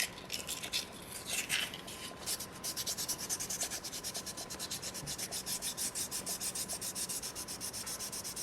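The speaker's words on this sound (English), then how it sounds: "let's fold this sandpaper up a couple more times" Folded sandpaper rubs against a soapstone seal carving in quick, even back-and-forth strokes, a faint rhythmic scratchy rasp that settles into a steady pattern, heard alone.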